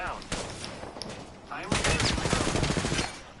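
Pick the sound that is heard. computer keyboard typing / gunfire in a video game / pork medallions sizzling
gunfire in a video game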